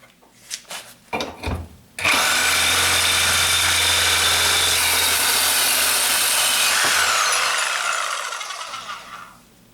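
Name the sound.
Milwaukee Sawzall reciprocating saw with Diablo carbide blade cutting angle iron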